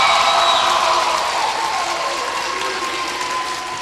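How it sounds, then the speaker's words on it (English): An audience at a school teachers' mini grants event applauds their principal with loud, dense, steady clapping that fills the whole stretch and eases off slightly toward the end. "Please give a round of applause for Lakeisha Thomas"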